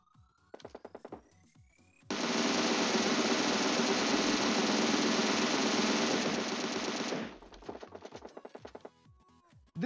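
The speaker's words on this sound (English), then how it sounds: "The next gun we are going to try is Beryl M762. It's again an assault rifle" Beryl M762 assault rifle firing in PUBG Mobile, a short burst of rapid shots, then a long sustained stream of automatic fire lasting about five seconds, then another quick burst, loud and close.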